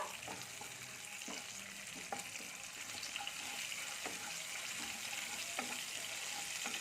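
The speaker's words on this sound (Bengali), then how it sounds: "জিরেটা আমি একটু ভেজে নেব" Half a spoon of whole cumin seeds frying in hot oil, a steady soft sizzle with faint clinks of a utensil at irregular intervals, fairly quiet and with no voices.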